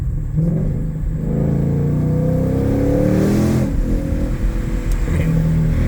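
A Ford Mustang GT500 engine revs briefly in second gear on a drive past vineyards: a loud, close, continuous rumble that swells and then settles, with no one talking.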